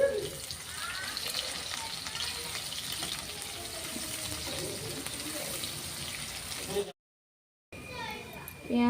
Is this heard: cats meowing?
no